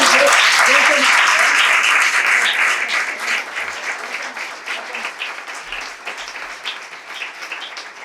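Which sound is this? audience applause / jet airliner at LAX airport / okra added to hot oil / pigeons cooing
audience applause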